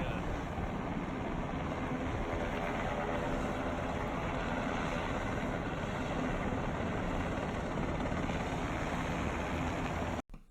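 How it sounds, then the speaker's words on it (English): A Black Hawk helicopter approaches over downtown Los Angeles during a special forces raid. It makes a dense, continuous roar and rumble that holds steady at a moderate level, then cuts off abruptly at the end. "So, second helicopter's going to come in."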